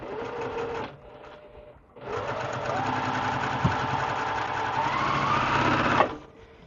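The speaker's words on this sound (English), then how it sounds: "I'm going to take my middle piece and sew it to the left piece" A sewing machine stitches quilt pieces together in two bursts, a brief run followed by a longer steady whirring hum that rises slightly in pitch before stopping, heard up close.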